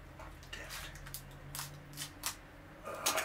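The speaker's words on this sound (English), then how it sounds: "another one here, and another one to unwrap" A package of comic books is unwrapped up close: quiet, scattered crinkles and rustles of plastic or paper in short bursts, with no talking.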